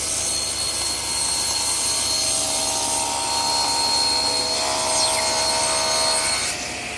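A table saw cross-cuts a wood piece on a panel cutter sled, giving a loud, continuous whining cut that holds steady for several seconds before easing off near the end.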